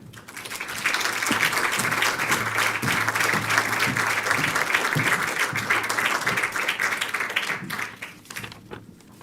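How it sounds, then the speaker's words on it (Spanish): Sustained, loud applause from an audience at the Aspegi awards ceremony welcoming the association's president, dense steady clapping for several seconds before tapering off near the end. "recibamos con un fuerte aplauso a la presidenta de Aspegi, Nerea Ibáñez García"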